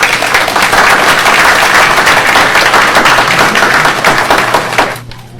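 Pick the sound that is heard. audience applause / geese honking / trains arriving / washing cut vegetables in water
audience applause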